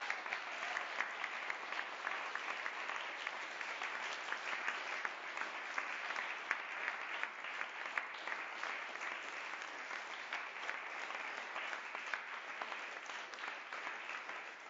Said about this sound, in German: Einen großen Applaus nochmal für die Hauptpreisträgerin.